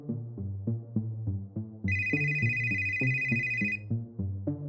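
A telephone rings with a bright electronic ringtone over about two seconds, starting partway through and cutting off, heard over a steady rhythmic thumping music bed.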